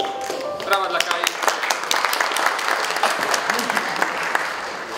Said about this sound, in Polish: Brawa dla Kai.